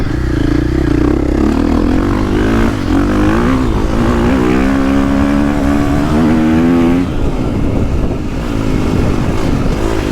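A 2022 KTM 450 Factory Edition dirt bike engine revs and bogs while riding, its loud, close drone rising and falling in pitch with throttle changes and engine braking, with no talk over it.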